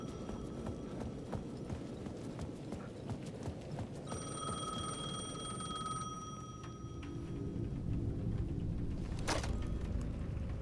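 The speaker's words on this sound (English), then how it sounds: "The payphone at the edge of the plaza was ringing again." A payphone rings in a plaza in the Alan Wake 2 video game, a bright repeating electronic ring standing out over a steady ambient game background with rumbling and hoof-like clopping noises.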